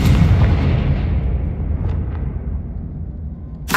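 A booming fire-spell blast from the Confringo curse in the Hogwarts Legacy video game hits loud at once and rumbles away over several seconds, with a fresh burst at the very end.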